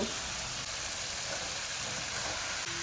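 Spinach, yardlong beans and potato fry with spices in a pan for a curry, giving a steady, even sizzling hiss that carries on unbroken with no talking.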